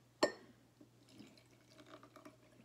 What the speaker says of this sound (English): And we're gonna pour some water in.